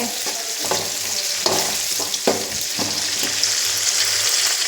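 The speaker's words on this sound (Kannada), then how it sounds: "ಕಟ್ ಮಾಡ್ಕೊಂಡಿರೋ ಈರುಳ್ಳಿ ಈಗ ಚೆನ್ನಾಗಿ ಫ್ರೈ ಮಾಡ್ಕೋಬೇಕು" Chopped onions frying in hot oil for radish sambar, a steady close sizzle broken by repeated spoon stirs scraping the pan throughout.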